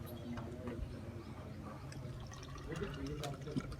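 Water gurgles and trickles as it is poured into a drenching tube, a soft continuous splashing with faint drips, heard close under people talking nearby.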